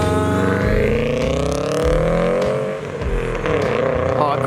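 Widebody turbo Subaru WRX revving and driving away, a loud raspy engine note climbing then fading as it pulls off, with voices talking over it.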